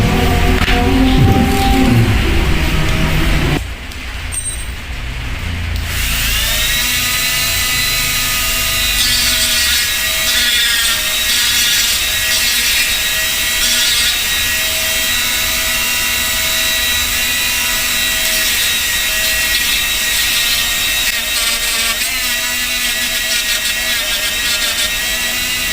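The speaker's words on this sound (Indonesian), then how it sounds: "Kita rapikan menggunakan mata amplas seperti ini." A rotary sanding bit smooths a Honda Scoopy motorcycle stop-lamp housing, giving a steady high-pitched whine with a continuous gritty hiss that runs unbroken for over twenty seconds after a brief pause near the start.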